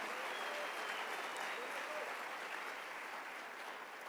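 Church congregation applauding at a sermon, a dense, sustained wash of clapping that holds steady throughout and fades only slightly near the end.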